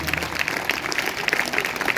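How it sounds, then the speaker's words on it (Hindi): A congregation at a Sunday church service breaks into dense, vigorous applause that fills the whole short moment without pause. "जोरदार तालियां बजाएंगे"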